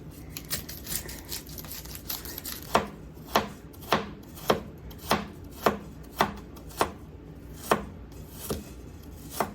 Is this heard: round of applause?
no